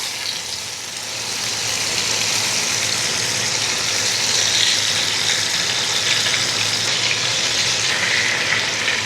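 Chicken pieces for bistek fry in hot oil with a loud, steady sizzle and crackle that starts a little softer and then holds even throughout, with no voices.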